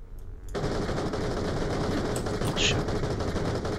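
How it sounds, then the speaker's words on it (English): Rapid automatic gunfire in the Borderlands Pre-Sequel video game while shooting a corrosive weapon, a dense, loud continuous burst starting suddenly after a brief quiet moment and holding steady to the end. "I'm shooting this one with corrosive."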